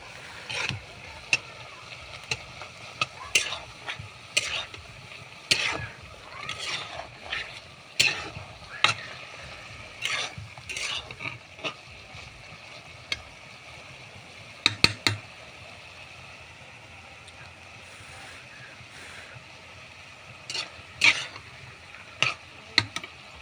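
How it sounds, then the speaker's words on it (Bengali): A spoon stirs fish and green vegetable stalks cooking in a pan, making repeated sharp clacks and scrapes in irregular bursts over a faint simmer, with a quieter stretch in the middle before the knocking returns. "একটু ঘেঁটে দিচ্ছি"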